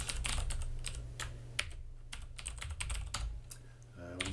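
Rapid clicking on a computer keyboard while entering card details into a payment form, an uneven run of close, crisp keystrokes over a steady low hum, with a faint voice near the end.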